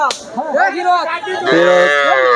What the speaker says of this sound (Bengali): প্রিয় দর্শক আমরা এই গরুটা দেখছি